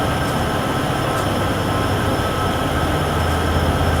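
Trains in Train Sim World 6 on the Cheyenne to Laramie line, a steady close rumble of rolling rail cars with wheel and engine noise running continuously throughout.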